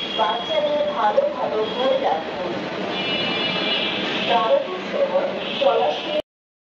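A metro train carriage in motion gives a steady rumbling hum with faint high tonal whines while people talk continuously over it.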